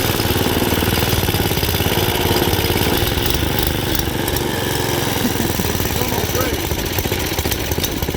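A riding lawn mower engine runs steadily and loud close by, a continuous rough mechanical drone with no pauses.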